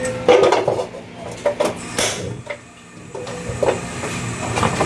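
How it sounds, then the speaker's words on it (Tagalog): Metal wok set down on a home stove before frying pansit, a few clattering metallic knocks and scrapes with short gaps between, close and moderately loud with no talk. "Sasalang ko na lang itong kawali."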